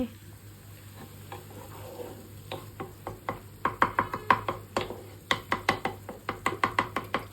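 Food cooking in a pan is stirred with a utensil. Sharp, rhythmic clicks and scrapes quicken and grow louder partway through, over a soft background sizzle and hum.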